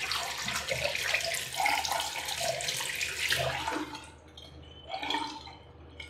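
Warm tap water runs steadily from a faucet into a sink while preparing to shave, a continuous splashing stream that thins and stops partway through, leaving a brief trickle.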